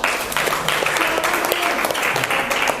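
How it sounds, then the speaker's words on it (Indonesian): A school Ramadan-event audience claps together, a dense steady wash of applause filling the whole stretch at close range with no voices standing out. "Tepuk tangan dulu."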